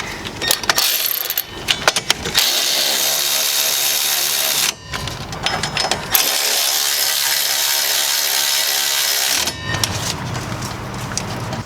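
A power ratchet runs bolts down on a car's lower control arm. It gives two long, steady whirring bursts up close, separated by brief pauses and clicks.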